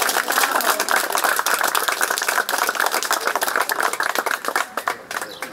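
At a campaign meeting with pensioners at Hipodrom, a crowd claps in a dense, steady round of applause, loud and close, thinning slightly toward the end.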